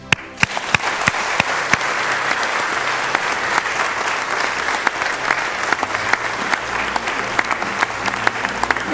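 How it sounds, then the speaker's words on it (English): Sustained, loud audience applause fills a Kenyan presidential debate hall in 2013, dense and steady from start to finish with a few sharp individual claps standing out. "They deserve a warm round of applause."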